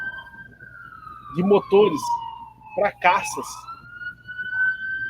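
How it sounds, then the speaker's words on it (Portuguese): A police-style siren sound effect wails in a long sweeping tone, falling and then rising, played over someone speaking Portuguese during a live broadcast. "É só falar de guerra, a sirene toca."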